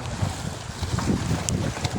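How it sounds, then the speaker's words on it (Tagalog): Strong wind buffets the microphone aboard a small fishing boat at sea, a continuous rough roar with gusty swells and faint wave wash underneath, close and fairly loud, with no talking. "Napakahangin."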